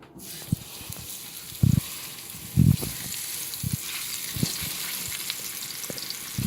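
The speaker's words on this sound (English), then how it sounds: "we're gonna give them a quick sear" Moose striploin sears in a hot pan, giving a continuous sizzle broken by several sharp bursts of spattering crackle as the meat is moved.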